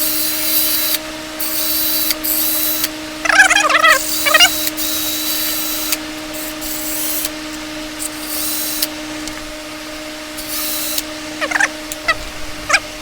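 A wooden wheel on a bolt spins in a drill and gets sanded round. A steady motor whine runs throughout, with rough scraping bursts where the sandpaper bites in and several brief pauses.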